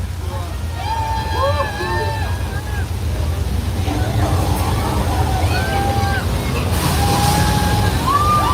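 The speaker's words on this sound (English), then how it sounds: "That's a flash flood." A flash flood effect on a theme park ride sends rushing water roaring steadily under a bridge, loud and continuous, with a crowd of riders chattering and calling out over it.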